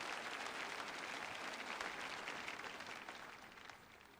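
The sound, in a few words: congregation applause in church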